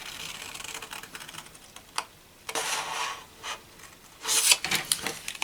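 Scissors snip through paper for small Easter baskets, a series of close, dry rasping cuts and crisp slices, uneven in rhythm, with no talking.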